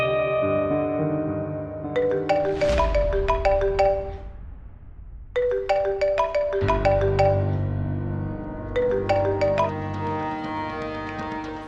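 Late at night a phone plays a melodic ringtone, bright chiming notes repeating in phrases for several seconds with a brief pause between rounds, loud and close with no talking.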